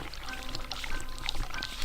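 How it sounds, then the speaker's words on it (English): Water runs into a sink in The Cat Lady, a short stretch of splashy, bubbling pour with scattered droplet ticks over a low steady background. "I can hear the water running."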